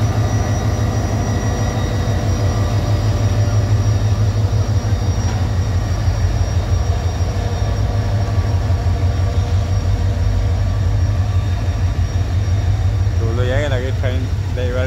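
A train runs past at a railway station in Sylhet in the evening, a loud, steady rumble of wheels and carriages filling the whole stretch, with people talking nearby.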